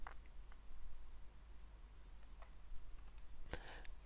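Computer mouse clicks while editing images in Photoshop, a few sharp isolated clicks spaced irregularly with a small cluster near the end, quiet and close over low background hum.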